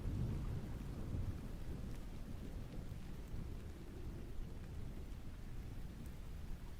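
Steady rain with rolling thunder from a thunderstorm, a low continuous rumble and hiss that holds throughout with no talking.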